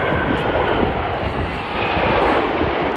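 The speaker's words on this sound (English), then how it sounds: "Planes, planes, and more planes. And maybe the odd helicopter." An airplane roars overhead at an international air show on a hot day, its engine noise a loud, broad, continuous rush that swells slightly near the end.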